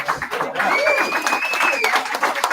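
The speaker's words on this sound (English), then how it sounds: "Can I get a big round of applause for Bobby Shantz, please?" A live audience at a Dagwood's fan show applauds for guest Bobby Shantz, a dense round of clapping with a thin whistle rising above it and voices mixed in.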